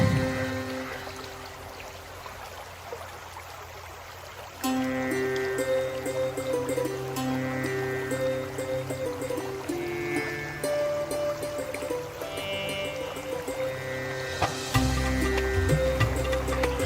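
Cold water flows over mossy, slippery rocks in a hidden forest stream with a steady, close rushing wash that grows fuller after about four seconds and carries on unbroken, with no voices.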